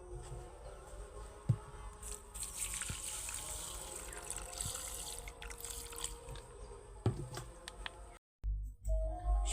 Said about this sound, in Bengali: এইবার সরষেগুলোর মধ্যে জল দিয়ে দেব